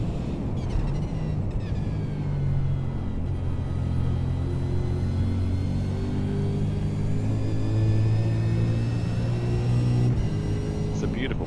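A car engine on a racing circuit revs steadily and climbs in pitch as the car drives on, a loud, continuous drone with no pauses.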